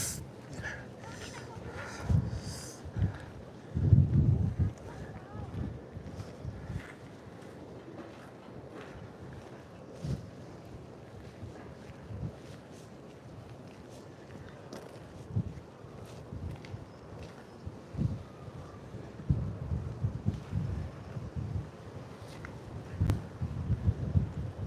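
Strong wind buffets the microphone at a Scottish Power wind farm, where turbines stretch toward Kilmarnock. It comes as a steady rumbling roar with gusty peaks, and people talk over it at intervals.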